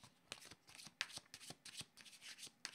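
A deck of tarot cards being shuffled and drawn, a series of crisp papery riffles and snaps in an irregular rhythm, close and fairly quiet with no talking.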